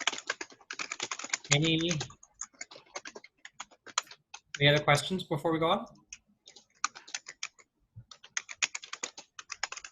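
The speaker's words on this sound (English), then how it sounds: "Somebody's clicking along, so I'm going to mute them" Rapid keyboard typing from a participant on an online call, crisp irregular clicks throughout, interrupted by a person talking mid-clip.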